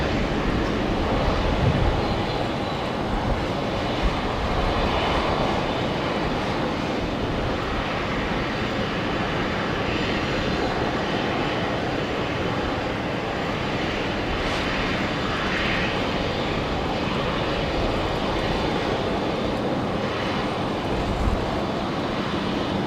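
Qatar Airways Boeing 777 taxiing past at Brisbane Airport, a steady broadband jet engine roar that holds close and loud for the whole stretch with no talk over it.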